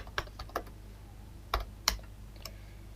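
A few separate keystrokes on a computer keyboard while C code is typed, short soft clicks in small clusters, close and fairly quiet with no talking.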